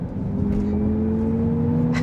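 A 2024 Acura ZDX A-Spec all-wheel-drive SUV accelerates, its motor holding a steady, fairly loud whirring drone heard from inside the cabin for two seconds.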